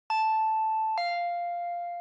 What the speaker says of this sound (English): I heard the doorbell ringing.